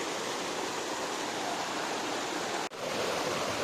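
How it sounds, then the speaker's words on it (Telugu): Ramasari waterfall in Lankamala forest, Kadapa district, plunging from a great height into a deep valley: a steady, dense rushing roar that fills the scene, with one brief dip near the end. "రామ్సర్ వాటర్ ఫాల్ ఎంత హైట్ ఉందో చూడండి"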